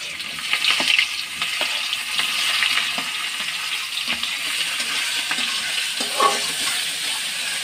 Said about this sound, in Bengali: এখন দিয়ে দেবো পেঁয়াজ